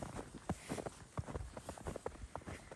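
Horse hooves clip-clopping on a snowy street in Munich, a steady run of light, uneven knocks at moderate distance over a busy outdoor wash of ambient noise.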